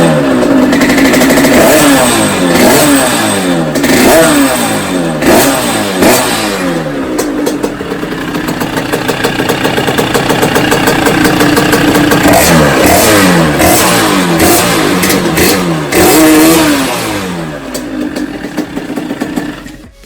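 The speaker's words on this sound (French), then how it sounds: "Voilà rapidement la puissance du moteur, je vais vous faire écouter tout ça, ça tourne vraiment très fort." A motorcycle engine revs hard and loud for the full stretch, rising and falling in repeated surges with a steady rough growl in between, heard close up with no talking.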